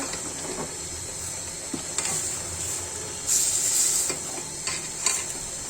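Chicken sautéing in a pan with blended ash gourd peel masala, a soft continuous sizzle and hiss broken by scraping stirs and a few louder spatters, no one speaking.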